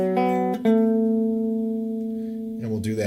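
An electric guitar plays a short riff phrase, with a few picked notes and one long sustained note, close and clear with no talking.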